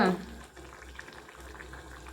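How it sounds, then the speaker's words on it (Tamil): A soft, steady bubbling hiss of egg paneer gravy simmering in a pan, close and low in volume, with no talking. "இது நல்லா கொதிக்கட்டும்."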